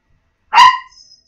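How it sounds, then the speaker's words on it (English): A dog gives a single short, sharp bark, loud and close, that stands alone in an otherwise quiet moment. "that is my dog"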